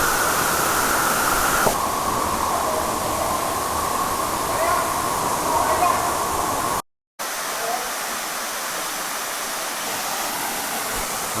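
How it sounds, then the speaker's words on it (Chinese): Loud, steady roar of a waterfall at Tukad Cepung in Ubud, Bali, heard up close as continuous rushing water that drops briefly to silence before resuming. "然后走过来就是另外一个瀑布啦。"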